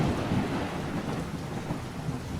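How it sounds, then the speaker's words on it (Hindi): Steady heavy rain pouring down with a low rumble of thunder throughout, dense and continuous. "अचानक वहाँ बारिश शुरू हो जाती है।"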